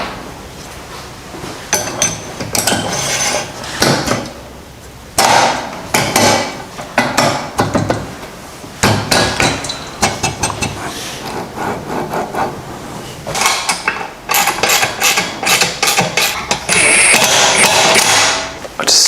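Bolts are done up on a Hustler Badboy mini chopper frame, with close, loud metallic clanks, scrapes and rattles of tools and parts in irregular bursts and no talking.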